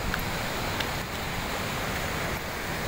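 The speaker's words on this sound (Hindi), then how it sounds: "वो पानी देखो कैसा पानी आ रहा है, बाढ़ आ रहा है, बाढ़।" Broad, continuous roar of rushing floodwater, steady and loud with no clear breaks, like a torrent pouring across a road where vehicles have sunk in.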